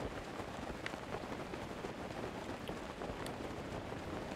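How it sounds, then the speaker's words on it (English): Heavy rain pouring in a Zelda game set in Hyrule, a steady, even, dense hiss with no pauses that stays at a faint level for the whole stretch. "Damn, it's raining hella hard."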